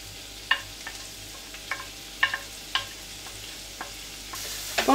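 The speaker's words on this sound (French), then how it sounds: "Nous allons tout d'abord cuire les oignons et les poireaux." Onions and leeks cooking in a pan, a soft sizzle beneath sharp intermittent clinks and scrapes of stirring, close and quiet with no voices.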